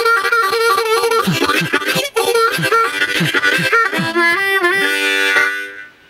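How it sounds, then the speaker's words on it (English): Rhythm harmonica is played close and loud in a steady chugging pattern of breathy chords with percussive pulses, ending on a held chord that fades out. "Lesson number 2, rhythm harmonica, sounds like this."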